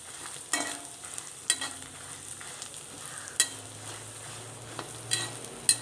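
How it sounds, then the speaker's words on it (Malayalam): Dry red chillies and urad dal roast in a pan, giving a soft, steady sizzle, with occasional scraping clicks as they are stirred, close and fairly quiet. "ഇപ്പോൾ മുളകും ഉഴുന്നുപരിപ്പും ഒക്കെ ഒന്നും നന്നായിട്ട് മൂത്തിട്ടുണ്ട്"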